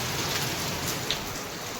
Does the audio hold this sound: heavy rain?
yes